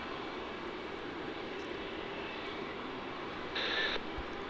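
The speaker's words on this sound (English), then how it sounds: "we have 2 Virgin Australia 737 flights. The first one is going to be going to the Sunshine Coast as VA 1029. Which is just turning onto runway 16 as we speak" A Virgin Australia Boeing 737 turns onto runway 16 at Melbourne Airport, its engines giving a steady, distant broadband roar that holds evenly throughout, with a faint brief electronic tone near the end.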